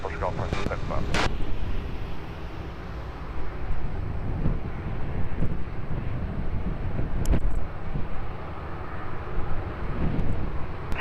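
An aircraft at Lisbon Airport gives a steady, loud broadband roar mixed with gusty wind noise. It runs continuously with a few sharper bumps along the way.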